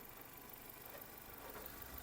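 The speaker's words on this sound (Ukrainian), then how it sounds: "Робота двигуна." A petrol Renault Modus engine with automatic transmission idles with a steady, even rumble that continues unchanged throughout, heard close with no voices.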